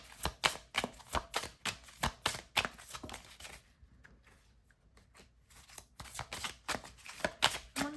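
Tarot cards are handled and shuffled, giving rapid rhythmic riffling flicks, close and crisp. A short lull in the middle is followed by more steady card snapping.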